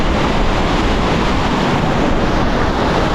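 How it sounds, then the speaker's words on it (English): A waterfall in remote Swedish mountains roars from very close by as a dense, unbroken wash of rushing water, loud throughout with no voices. "I think this is as close as I'm getting without literally taking a shower in the waterfall"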